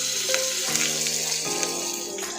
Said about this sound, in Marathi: आपण राई जिरं आणि पांढरे तेल जे घेतलेले ते टाकायचे त्याच्यानंतर आपण कढीपत्ता घ्यायचा